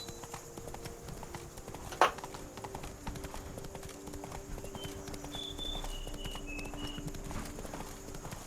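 Roach, Geralt's horse in The Witcher 3: Blood and Wine, gallops with faint, steady hoofbeats under ambient game music and a sharp knock near the start.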